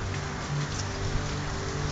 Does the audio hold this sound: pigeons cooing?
no